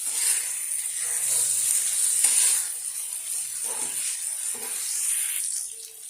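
Prawns fry in oil in a pan and are tossed with a spoon, giving a steady bright sizzling hiss with occasional scraping stirs throughout, close and fairly loud.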